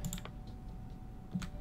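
Quiet computer keyboard typing while playing SpaceChem: a few soft clustered key clicks near the start and another short burst near the end, close and faint with no talking.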